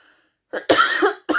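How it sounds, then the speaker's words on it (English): A few sharp, harsh coughs close by, two quick bursts followed by another after a short pause. "Well, it's starting again, the coughing."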